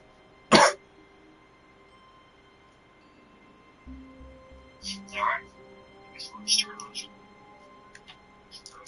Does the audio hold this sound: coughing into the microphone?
yes